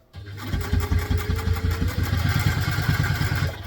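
Close, loud sewing machine stitching a vintage-style doctor's bag, a steady motor hum with a rapid regular needle beat that runs continuously throughout.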